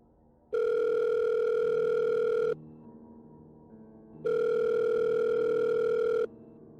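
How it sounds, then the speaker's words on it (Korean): Ringback tone of an outgoing telephone call, two long steady electronic rings about two seconds each separated by a quiet gap, clear and alone. "어머니에게 다시 전화를 걸었어요"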